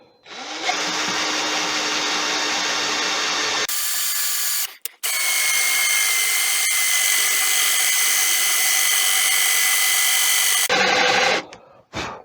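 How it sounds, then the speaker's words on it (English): Power drill boring a hole through a turned beech and bubinga yarn bowl on a lathe with the indexing system, a loud steady whine in two long bursts separated by a short pause, close up with no talk. "I use the indexing system, turn it this way to make it easier on myself to drill."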